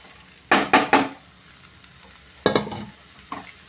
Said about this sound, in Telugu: కాస్త ఫ్రై అయింది కదా ఇప్పుడు ఇంకా ఇవన్నీ వేసేద్దాం